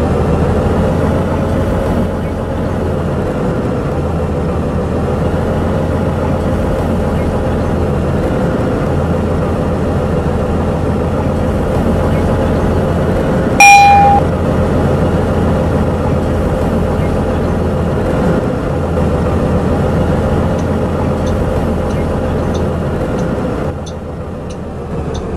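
Inside a 2018 Nova Bus LFS city bus on Toronto's TTC route 81 toward Thorncliffe Park, a steady low engine drone and road rumble fill the cabin, with a brief bright chime-like tone near the middle.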